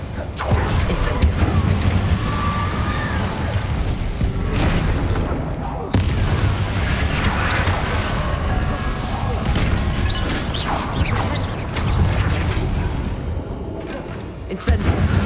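The Incendio fire spell being cast in Hogwarts Legacy against Inferi, a dense, continuous roar of booming blasts and crashing impacts that stays loud throughout with brief sharp cracks.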